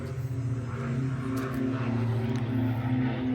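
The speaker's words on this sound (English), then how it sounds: "Hopefully these airplanes aren't making it difficult to hear." Propeller airplanes drone overhead above a cemetery, a loud steady engine rumble with a throbbing tone that holds throughout, with no one talking.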